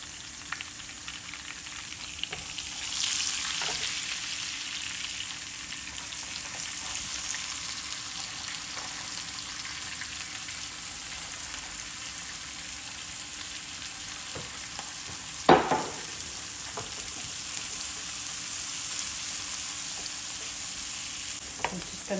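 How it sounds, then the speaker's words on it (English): Chopped onions fry in a pan for lentil dal, a steady broadband sizzle running throughout with occasional scrapes of stirring and one sharper clatter near the end. "I'm going to put the chopped onions in now"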